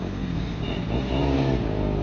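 KTM Duke 390 motorcycle engine, BS4 or BS6 version, revving hard at a drag race launch, a steady loud droning roar with rising pitch lasting the full two seconds, no talk over it.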